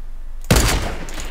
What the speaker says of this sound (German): Hier, da wo ich drauf schieße.